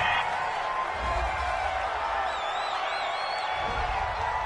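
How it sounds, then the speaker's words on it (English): A home crowd at a DBRL football game cheers and whoops steadily after a penalty flag is thrown, a broad continuous roar with faint whistling tones drifting over it. "This home crowd, they're happy with that call"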